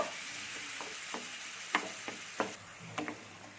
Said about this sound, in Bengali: দিয়ে আমি এটা একটু খুন্তি করে করে থেতো করে নেব।